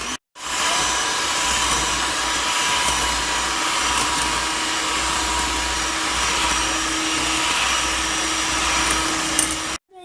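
An electric beater whirs steadily while mixing vanilla cupcake batter with cooking oil, a loud continuous motor drone that runs almost the whole time and cuts off at the end.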